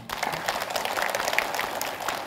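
A women's Islamic study gathering during Ramadan breaks into dense, continuous clapping, fairly loud and close, a bright wash of many hands filling the room for a couple of seconds.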